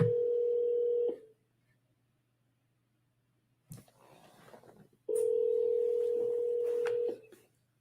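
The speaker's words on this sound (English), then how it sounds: "let's call again" An outgoing telephone call being placed, heard as two long, steady ringback tones separated by a silent gap and a brief burst of line noise, clear and close.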